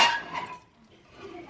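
A utensil scrapes and clinks against a bowl as snack batter is stirred together with flour, producing a couple of quick bright knocks followed by a softer swish.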